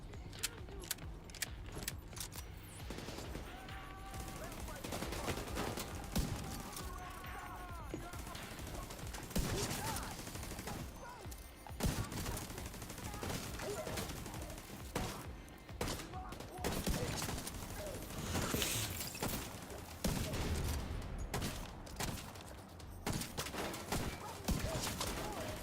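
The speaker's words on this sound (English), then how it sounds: "Sounds like a shotgun." Shotgun blasts boom repeatedly in The Division 2 in rapid irregular bursts amid dense firefight noise, with people talking throughout.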